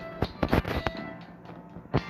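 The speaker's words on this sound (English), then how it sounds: "Explosion." Explosion during an energy core raid in the Roblox game Blox City: a burst of sharp crackling bangs, close and fairly quiet, with one more pop after a short gap.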